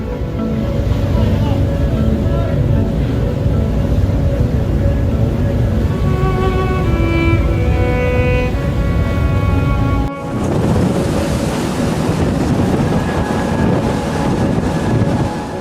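A loud, steady trawler winch engine drone with a whining mechanical tone runs continuously, shifting to a rougher, noisier roar partway through as it hauls a full trawl net aboard a factory fishing ship.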